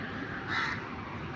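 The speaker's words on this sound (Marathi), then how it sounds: "सकाळचा कावळा बघा कसा काव काव करतो" A crow caws once or twice in the morning, slightly distant over a steady wash of outdoor noise, with no talking over the call.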